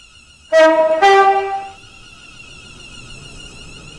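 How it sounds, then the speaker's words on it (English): A Class 350 train in Roblox Stepford County Railway sounds a loud two-note horn as it approaches the platform, two strong blasts in quick succession followed by a quieter steady background hum. "The train now approaching Platform 1 terminates here."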